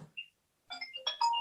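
A mobile phone ringtone plays in a courtroom, a short electronic melody of bright tones after a brief pause, fairly faint.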